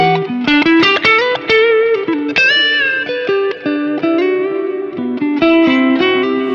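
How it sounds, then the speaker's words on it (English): Andy Timmons plays a melodic electric guitar line with notes ringing out and washing into a spacious reverb tail from his pedalboard, steady and fairly loud. "There's a bit of reverb at the board that I don't normally have on."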